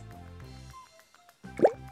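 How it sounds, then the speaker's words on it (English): Food coloring drops falling into a layer of oil over water in a homemade lava lamp make a single soft plop near the end, heard over a steady musical background. "Now let's add food coloring."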